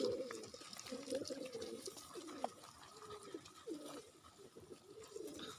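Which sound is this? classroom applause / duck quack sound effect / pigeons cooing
pigeons cooing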